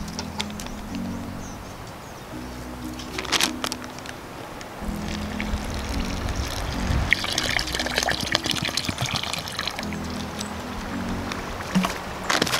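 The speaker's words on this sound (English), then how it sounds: "Now I just add the water." Water splashes and gurgles as it is poured into a plastic bag of plaster casting mix outdoors in the Wichita Mountains of southwestern Oklahoma, with sloshing and crinkling bursts over a low hum.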